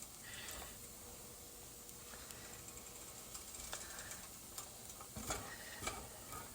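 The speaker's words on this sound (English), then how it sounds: "I'm just going to stir this up till it gets heated all the way through and those eggs are completely done" Ham and eggs being stirred in a frying pan at home, a quiet, steady sizzle with soft scraping and tapping of the utensil, and no talking.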